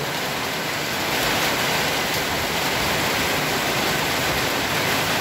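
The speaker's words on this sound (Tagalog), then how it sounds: "Lakas ng ulan." Heavy rain pours steadily in a dense, loud, continuous roar, with no voices over it.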